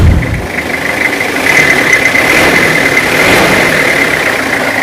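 A 2000 Toyota Kijang Krista with its front-mounted diesel engine idles steadily, a continuous loud mechanical rumble with a faint whine and slight swells in level, no voices over it.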